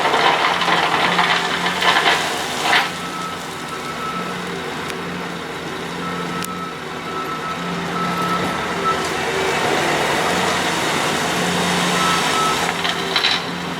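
A gravel delivery truck reverses at a driveway prep site, its steady backup beeper sounding over a continuous engine rumble throughout, moderately close.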